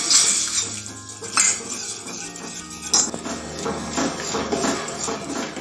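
A spoon stirs a cornflour and water slurry in a small bowl in a home kitchen, making clinking scrapes against the sides with a few sharper knocks, close and clear and with no talk.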